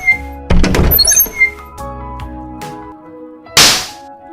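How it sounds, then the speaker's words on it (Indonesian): In a staged drama scene a supporting actor slaps the lead across the face, a sharp close smack followed by a few thuds and a second bright crack near the end, with a musical tone underneath. "Sekarang pemeran pembantu masuk, lalu tampar pemeran utama."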